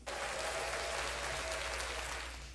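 Sustained crowd applause fills a country music interview setting, loud and even throughout before tapering off slightly at the end.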